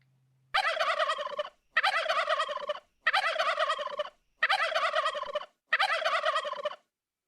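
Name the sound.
wild turkey gobbling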